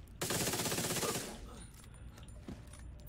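A short, loud automatic burst from an F2000 rifle in The Division 2 rattles for about a second, then fades into quieter game ambience with a faint thump near the end.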